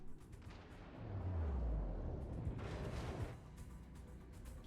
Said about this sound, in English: Shots out on that Azuma.